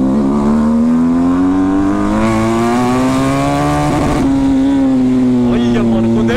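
A loud motorcycle engine revs steadily with a strong droning harmonic tone that rises in pitch, then shifts and holds, with voices faintly underneath.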